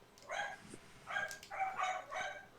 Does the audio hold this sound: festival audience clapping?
no